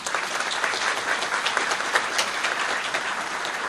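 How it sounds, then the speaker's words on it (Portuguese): An audience at a lecture on the new Brazilian civil procedure code applauds a professor, a dense, even patter of many hands clapping steadily at moderate distance with no voices. "pedir uma salva de palmas ao professor Fred Didier"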